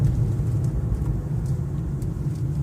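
A 2015 Infiniti Q50 sedan accelerates with a steady low engine rumble and road noise heard from inside the cabin, close and continuous.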